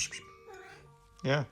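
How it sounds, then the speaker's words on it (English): A pet cat meows nearby in a room where an old G3 iBook clamshell is being restored; a short tonal cry is followed by a louder meow, with a brief spoken word between. "any noises you hear in the background is my cat"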